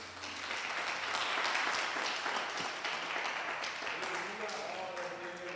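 Steady congregation applause during a church worship service fills the whole stretch, a dense wash of clapping with voices faintly mixed in.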